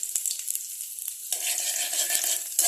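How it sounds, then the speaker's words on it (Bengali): Whole cumin, garlic cloves and lightly crushed cardamom fry together in hot oil for rajma, a close continuous sizzle that grows thicker and louder partway through, broken by a few brief clicks of stirring. "এই তিনটাকে একসাথে একটু ভাজা করতে করতে"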